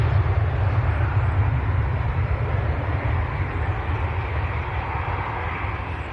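A Ryanair airliner bound for Madrid at Manchester Airport, a steady, loud, broadband engine roar that holds evenly and eases slightly toward the end.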